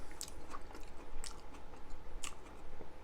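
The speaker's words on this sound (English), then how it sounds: "Banana peppers give it a good crunch." Someone bites into and chews a drippy sandwich with crunchy banana peppers, close and sharp: crisp crunches at a slow, irregular rhythm with moist chewing between them and no talk.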